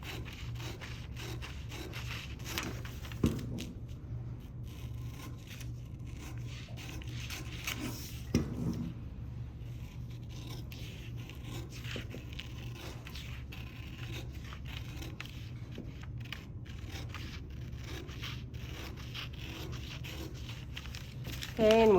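Scissors cutting through fabric midriff pieces along a seam allowance while draping a bodice, repeated soft rasping snips and rubbing at close range, quiet and irregular, with a louder snip near the start and a brief rustle at the end.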